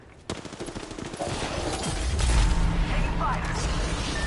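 Video game gunfire in rapid bursts and sustained automatic fire, loud and dense, building and continuing throughout with a player's voice talking over it.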